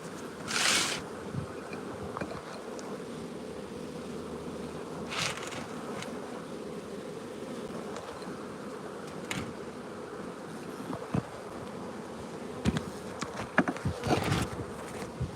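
Honey bees at an opened hive buzz steadily and close, a dense continuous drone with a few brief clicks and knocks of hive handling.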